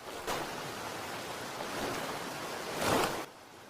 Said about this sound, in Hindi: समुद्र में पानी की लहर अचानक बढ़ जाती है